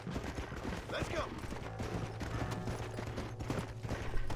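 A horse gallops in the Western video game Red Dead Redemption, a steady rapid hoof rhythm under a busy layer of game sounds with gunfire-like cracks mixed in.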